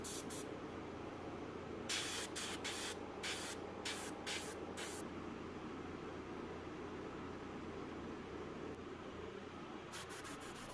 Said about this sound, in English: I spray platinum colored paint through some window screen mesh for some scales